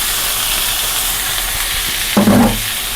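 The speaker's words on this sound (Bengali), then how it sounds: "এখন আমি দিয়ে দেবো মাশরুমগুলা, দিয়ে দেবো পুরা।" Mushrooms drop into a hot pan and set off a short burst of sizzling near the end, rising over a steady hiss of frying and cooking noise.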